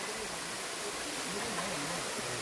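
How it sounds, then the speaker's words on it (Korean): A steady, dense roar of falling water fills the air, with faint voices talking beneath it. "와 좋다 이 폭포 소리만 들어도 오늘 응?"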